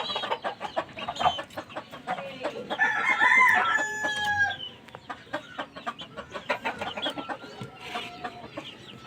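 Kanaway-breed chickens and chicks in a coop, with a rooster crowing loudly midway amid repeated clucks and peeping close by.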